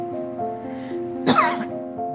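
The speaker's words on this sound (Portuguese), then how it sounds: "Estou um pouco tossindo." A single short, sharp cough cuts in close and loud during a sermon, then fades back into a soft, steady tonal background.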